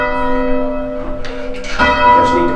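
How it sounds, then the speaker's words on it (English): A church bell rung by rope pull at Brading, its strike ringing loud and sustained with a long humming decay, followed by a second clang and brief handling noises. "the bell hangs slightly off balance like that"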